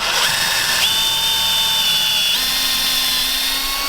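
Power drill spinning a bit into wood through a pocket hole jig, a loud, steady motor whine that shifts upward in pitch partway through and runs unbroken, close and alone.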